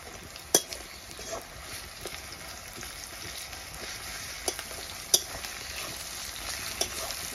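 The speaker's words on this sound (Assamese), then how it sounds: "পিঁয়াজখিনি ইয়াত দেখিছেনে ধুনীয়াকৈ ভাজি লাগিছে গতিকে মই দি দিছোঁ ইয়াতে জিৰা আৰু নহৰু খুন্দাখিনি" Onions frying in a pan with cumin and crushed garlic paste, a steady broadband sizzle with a few sharp clinks of stirring utensil against the pan, no talk.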